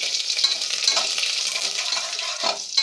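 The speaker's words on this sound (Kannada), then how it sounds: "ನೋಡಿ, ಈ ಸಾಸಿವೆ ಹೊಡ್ತಾ ಇದೆ." Mustard seeds and cumin spluttering in hot oil as curry leaves go in for methi rice bath make a dense, loud, crackling hiss, steady throughout with bursts of popping.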